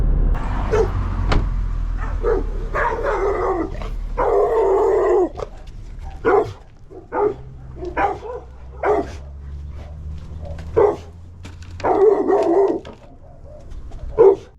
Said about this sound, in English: this is the one with the dogs